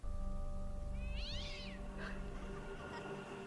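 A cat gives one clear, drawn-out meow at middle distance against a steady low hum, followed by fainter short cries.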